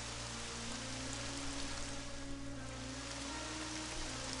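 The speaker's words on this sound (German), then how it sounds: "Aber ich höre immer noch den Regen." Steady rain pours in a video game, a dense broadband hiss holding at an even, moderate level with no talk over it.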